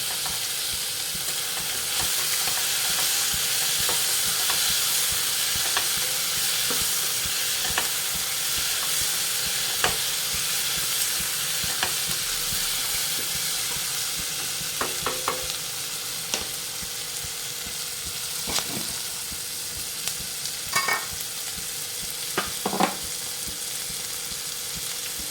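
Dried red chillies fry in oil in a pan for baby corn curry, giving a steady close sizzle, with a few sharp spoon scrapes and clinks as the pan is stirred.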